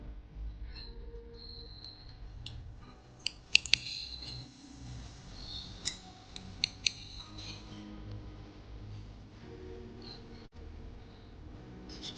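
Scissors trimming short hair in a layered haircut, cutting along the hairline edges: faint, scattered snips and clicks at close range over a quiet background, with no talking.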